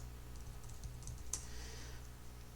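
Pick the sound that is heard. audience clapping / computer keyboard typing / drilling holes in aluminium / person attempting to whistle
computer keyboard typing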